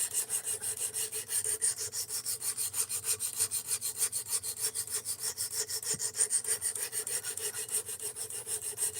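Bevels of a Cold Steel S35VN steel knife being ground on a sharpening stone: quick, even back-and-forth rasping strokes, about two per second, close and steady with no talking.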